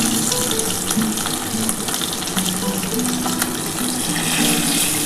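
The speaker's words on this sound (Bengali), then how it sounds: "এটা একটু কাঁচা কাঁচা মতো আছে বলে আমি একটুখানি এটা আরেকটু ভেজে নিচ্ছি" Tilapia pieces being refried in hot oil give off a steady, dense sizzle that hisses evenly and loudly throughout, with no talk over it.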